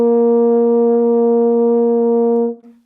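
A single brass note, a high C, held steady and loud for over two seconds, bright and sustained, then cut off abruptly.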